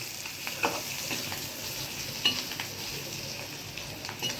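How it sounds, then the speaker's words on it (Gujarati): Green chillies fry in hot oil in a pan for a Gujarati sambharo. A steady, soft sizzle runs throughout, with a few light scrapes and clinks of stirring. "જો અંદર તળાઈ ગયા મરચાં"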